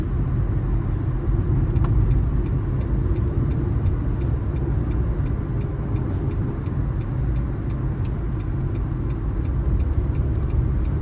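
A car idles and rolls slowly through a U-turn during a driving lesson, its engine giving a low steady rumble throughout with a faint regular clicking like a turn signal ticking above it.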